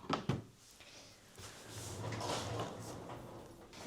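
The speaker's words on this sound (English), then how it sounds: "I have my Muji drawers now where I keep my stock in" A Muji storage drawer is opened or closed in a small home studio, with a couple of quiet sliding knocks at the start and then a soft, faint rustle.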